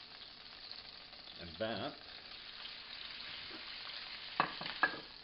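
Beef seared in a hot pan for beef Wellington gives a steady, moderately loud sizzle throughout, with a few brief clatters and a short spoken phrase over it.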